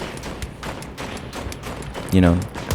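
Semi-automatic gunfire in the video game Battlefield 2042: a run of separate shots at an uneven rhythm, with a voice breaking in briefly near the end.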